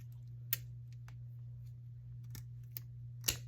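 Wire for HO scale street lights snipped a few times, giving sharp, isolated clicks spaced irregularly over a steady low hum, close and fairly quiet.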